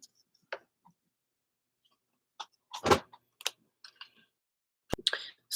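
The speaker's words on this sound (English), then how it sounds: "Do some shuffling." Sparse clicks and riffling bursts of tarot cards being shuffled, close and fairly quiet, with short pauses between the handfuls.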